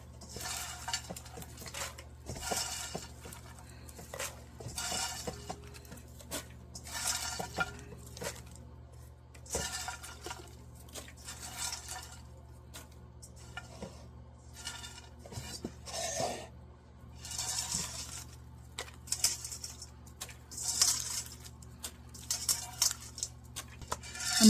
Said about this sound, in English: Doing it by hand, you can shake off any kernels